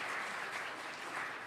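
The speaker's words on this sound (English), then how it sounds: "Let's give them a round of applause." A church congregation applauding during a Christmas Eve service, a soft, distant, even patter of many hands clapping steadily without talk.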